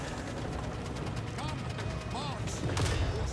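Cannon, mortar and Hellblaster artillery fire from an Empire army with land ships in Total War: Warhammer 3, sounding as dense overlapping blasts and crackling volleys over a constant loud battle din.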